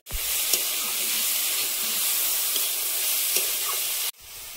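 Brahmi greens hitting hot oil in a pan, with a loud, steady sizzle and hiss that holds for about four seconds and then cuts off abruptly.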